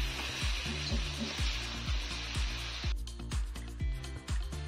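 Spice paste with mustard, drumsticks and potato sizzles steadily in a hot pan, a continuous frying hiss with a low rhythmic thumping underneath.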